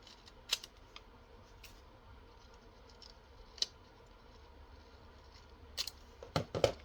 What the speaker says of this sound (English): I guess I'll just use my scissors.